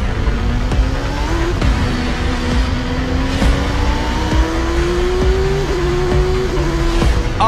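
A voice-controlled toy car runs in turbo mode with a close, continuous whining motor whose pitch climbs slowly, together with rattling and small knocks. No one speaks.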